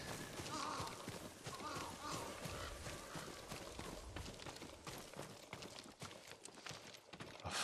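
Horse hooves clip-clop at a steady walking-to-running pace in the Ghost of Tsushima video game, fairly close and continuous over a busy background of game ambience.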